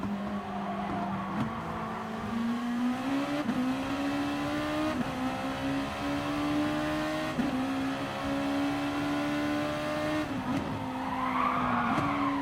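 Gr.2 race car in Gran Turismo Sport at Red Bull Ring, engine droning steadily with rising and falling pitch as it brakes, with repeated tyre squeal and a brief skid near the end.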